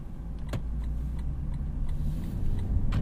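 Turn signal of a 2018 Lexus LC 500 ticking inside the cabin, a few faint, evenly spaced clicks over a steady low road and engine hum.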